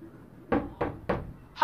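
Three evenly spaced knocks on a door, close and firm, each a short thud, followed by the start of a voice at the very end.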